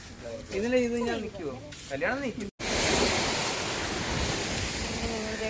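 Broadband roar of sea waves breaking on a shore, loud and steady over several seconds, following a stretch of people talking.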